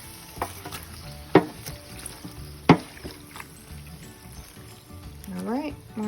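Beef fat rendering into tallow in a pot, stirred now and then, with two sharp utensil knocks against the pot over a low simmering background.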